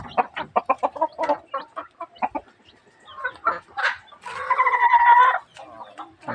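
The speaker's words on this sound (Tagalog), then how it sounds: "Guys, pakainin natin yung mga alaga natin na manok." Pet chickens cluck at feeding time outdoors, close by with a rapid series of short clucks followed by a louder, drawn-out squawking call, with no talk.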